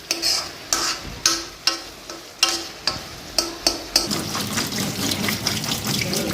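Carrots and potatoes being rewashed by hand under running tap water in a kitchen sink, with rhythmic splashes and rubbing bursts, then a steadier stream of water toward the end, close and fairly loud.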